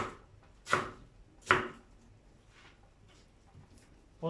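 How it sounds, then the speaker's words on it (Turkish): A knife cuts chard into finger-width strips on a board: a few sharp, separate chops spaced roughly a second apart, close and clear against a quiet background. "Şimdi böyle parmak genişliğinde doğruyoruz."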